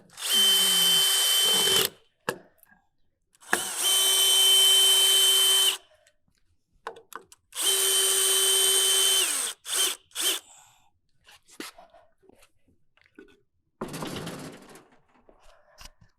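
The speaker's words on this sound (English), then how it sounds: "with your T25 on your screw gun, you're going to remove the screws that lock in the tongue" A cordless screw gun fitted with a T25 bit backs out the screws locking the tongue of an ABI 50 PTO manure spreader, with three long, loud whirring bursts, then clunks and scattered handling noises, and a last brief burst.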